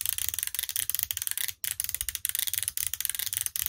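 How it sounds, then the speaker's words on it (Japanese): A Bikkura Tamago DX off-road spin toy mechanism clicks and ratchets as its handle is turned, a quick steady series of close, crisp plastic ticks. "これを押さえてハンドルを20回回すそうです"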